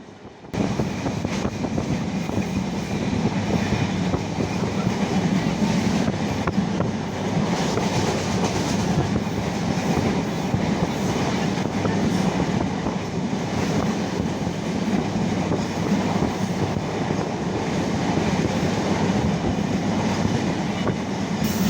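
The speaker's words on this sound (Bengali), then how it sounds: "ক্রিকেট এক্সপ্রেস পাস করছে সলপ রেল স্টেশন" Cricket Express train passing Salop railway station in Bangladesh, a loud continuous rumble and rattle of wheels and cars rolling by close at hand, steady throughout with no voices.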